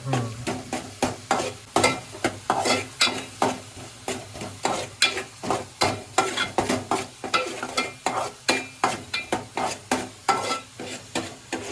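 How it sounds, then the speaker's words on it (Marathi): Onion and garlic fry in oil with a steady sizzle while a spoon stirs them in rapid, rhythmic scrapes against the pan, close and loud throughout with no talking. "कांदा घालून घ्यायचा कांदा पण चांगला फ्राय करायचा"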